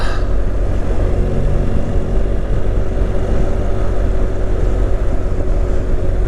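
A loud, steady motorcycle engine drones throughout, its deep exhaust rumble echoing off rock faces in Scotland, continuous and close, with a wash of wind noise over it.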